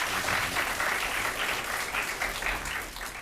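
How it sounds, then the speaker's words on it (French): Sustained audience applause, a dense wash of clapping that stays loud and even before easing slightly at the end. "On peut l'applaudir?"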